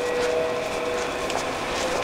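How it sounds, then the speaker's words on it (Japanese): A departing train hums and rumbles at a distance from a Japanese station, with a steady electric motor whine rising faintly over low station noise. "反対方向の電車が今出ていく 音が聞こえましたけど"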